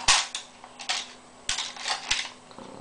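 A plastic Obi-Wan Kenobi Jedi Starfighter toy from Episode II snaps off spring-loaded missiles, several sharp clicks and pops spaced irregularly, close and fairly loud with no talking.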